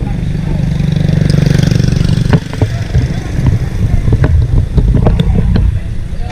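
A rented motorbike on Phú Quý island, plate 86L2 4582, idles with a steady mid-pitched engine rumble close by, broken by a few clicks and knocks while someone talks over it.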